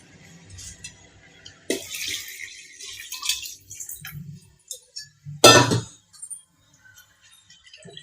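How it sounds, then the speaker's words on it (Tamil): Water is poured from a tumbler onto basmati rice in a pressure cooker, in a few short splashing bursts with clinks between them, close and fairly quiet. "அதுக்கு 3 டம்ளர் நான் தண்ணி ஊற்றிக்கிறேன்."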